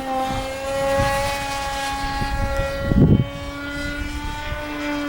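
A light foam HobbyKing Skipper RC plane flies a loop in wind, its steady propeller and motor drone holding a constant pitch throughout, with a brief louder gust or rumble near the middle and no talking.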